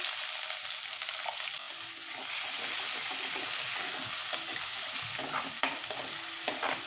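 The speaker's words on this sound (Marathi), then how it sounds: "कांदा ना हलकासा ब्राऊन होईपर्यंत आपल्याला छान असं परतून घ्यायचं आहे." Finely chopped onions sauté in oil with cumin and curry leaves for a ridge gourd dish, giving a steady close sizzle with scattered spatula scrapes and light stirring clicks throughout, no voices.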